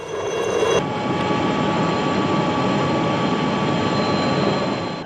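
An Indian Air Force military helicopter flies close, its engine and rotor producing a loud, steady roar and whine that holds without letting up.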